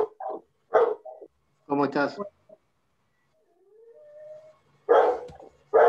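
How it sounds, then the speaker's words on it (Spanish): A dog in a home barks in short bursts and lets out a brief rising howl, heard between stretches of a person talking nearby. "Tengo un perro acá."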